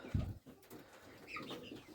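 Pigeons on a farm where poultry are also kept give a low, soft coo near the start, followed by quieter rustling and faint background calls with no talking.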